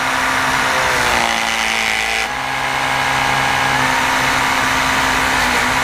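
An Electrolux Animal 800 vacuum cleaner fitted with the Pet Pro brush roars with steady, loud, close suction noise, its tone shifting slightly about two seconds in before continuing unbroken.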